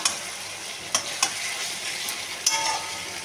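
Spice-coated chicken pieces frying in a pan, a dense continuous hiss with a few sharp spatula scrapes spaced unevenly, loud and close with no talking.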